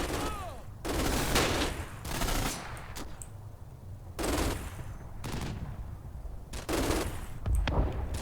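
Repeated bursts of MG42 machine gun fire from a Combat Mission World War II battle, loud rattling volleys with short gaps between them and a steady rumble of distant gunfire beneath.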